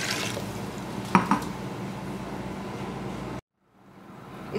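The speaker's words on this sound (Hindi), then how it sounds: "इसमें दो जग पानी डाल दिया" Two jugs of water poured into a pot of mutton and porridge give a steady, close splashing rush with a couple of sharp clinks, then stop suddenly.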